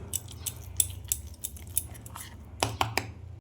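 Orange choco cake batter with soaked fruit being mixed in a bowl: repeated short clinks and scrapes of a utensil against the bowl, close and fairly faint, in an irregular rhythm with a quicker cluster near the end.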